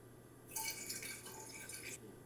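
LA tap water poured from a decanter into a one-liter glass bottle: a short, quiet trickling splash that starts abruptly and stops about a second and a half later, with no voices.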